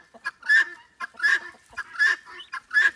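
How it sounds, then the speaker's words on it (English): Guinea fowl calling in a backyard flock kept with hens and ducks: a series of harsh, repeated honking cries in regular bursts, fairly close, with no talk over them. "I've got over half guinea fowl"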